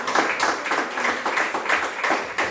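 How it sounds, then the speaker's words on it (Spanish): A congregation claps in rhythm during a Spanish-language church discipleship lesson, a regular beat of loud hand claps repeating about every half second with no talk over it. "Dale palmas a Cristo."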